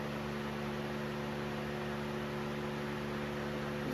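Electric radiator cooling fan running steadily behind a stock Honda Civic radiator as a pusher on a VW bus with a Subaru engine, a constant near whoosh with a low motor hum.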